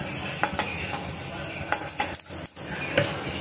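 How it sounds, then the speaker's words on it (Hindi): A metal spatula stirs bay leaf and cumin in a hot pan, with a soft sizzle under repeated scraping and clinking strokes at a close, uneven rhythm. "इसमें तेज पत्ता डाल देंगे और छोलनी से चला लेंगे।"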